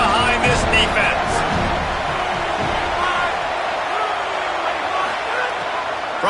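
Stadium crowd at a football game roaring steadily on a big third down, a dense continuous wash of cheering with a few sharper shouts early, loud and sustained throughout.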